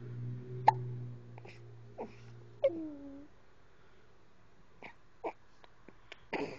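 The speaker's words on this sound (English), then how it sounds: "You got the hiccups." Repeated small hiccups, several sharp, brief catches spaced irregularly, quiet and close, with a faint voice and light background sounds around them.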